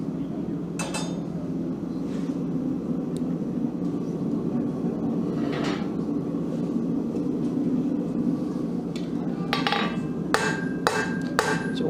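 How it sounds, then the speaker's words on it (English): A hammer strikes hot metal on an anvil during a blacksmithing demonstration, several sharp ringing blows, some in a quick cluster near the end, over steady room hum and murmur. "the hammer blows come straight at the anvil"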